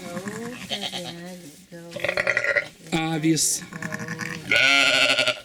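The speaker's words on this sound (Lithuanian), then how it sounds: "Čia yra avys." Sheep on a small farm bleat several times in wavering, drawn-out calls, close and fairly loud, with a person talking among them.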